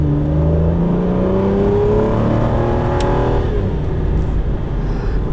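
A 2005 Aston Martin DB9 with a V12 engine while driving, a loud, continuous engine drone that rises in pitch as it accelerates through the gears, heard close from inside the car.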